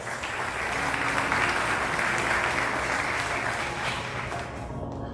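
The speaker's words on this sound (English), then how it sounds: "a warm round of applause" An audience at a college honors convocation applauds steadily for about five seconds with dense, even clapping that swells slightly and then tapers.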